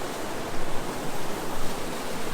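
A waterfall in Pattison State Park, Wisconsin: steady, dense rushing water roars continuously at close range, a broad hiss with no pauses and no voices.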